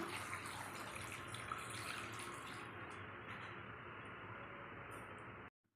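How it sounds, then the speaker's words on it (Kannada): Water streams steadily into a pan of village-style country chicken sambar with a constant splashing hiss for several seconds, then stops abruptly. "ಇನ್ನು ಕೊಂಚ ನೀರು ಹಾಕ್ಕೊತ ಇದ್ದೀನಿ"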